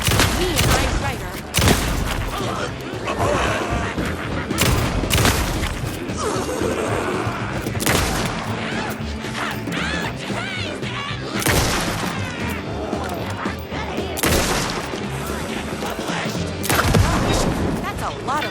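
Loud, rapid bursts of gunfire crack and boom through the Alan Wake 2 Night Springs game, with repeated volleys, crashes and debris mixed with game voices throughout.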